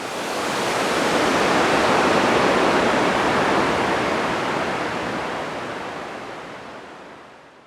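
Sojeongbang waterfall in Jeju, South Korea, roaring as a dense, steady wash of falling water, loud and close, swelling slightly before easing toward the end.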